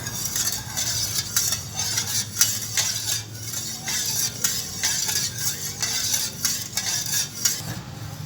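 A utensil stirs coconut milk and sugar in a pot in steady, rhythmic scraping strokes that clink against the metal, close and moderately quiet, with no talking.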